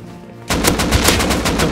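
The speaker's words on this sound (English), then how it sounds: "They're shooting at us too." Rapid automatic gunfire in the survival game Rust bursts in after a brief quiet start, a loud close string of sharp shots fired in quick succession, with no voices.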